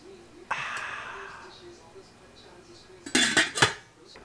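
Rhubarb sauce stirred in a pot over medium-low heat on a stove: a soft scraping swirl early on, then a brief cluster of louder utensil knocks and clinks against the pot near the end, with a faint breathy sound between.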